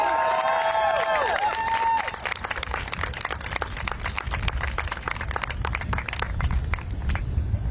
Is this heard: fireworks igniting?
no